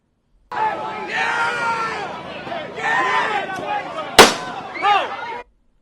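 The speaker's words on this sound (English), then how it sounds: "And he shoots his gun at the foot of the guy who's holding that thing." A handgun is fired once toward the ground at a Charlottesville protest. A single sharp, loud crack cuts through crowd noise and shouting voices.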